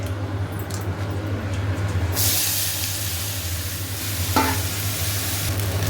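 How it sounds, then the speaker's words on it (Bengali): Potatoes hit hot oil tempered with black cumin and burst into a loud, steady sizzle partway through, over a low background hum. "তেল বসিয়ে কালো জিরে ফোড়ন দিয়ে এবার আলুগুলো দিয়ে দেবো"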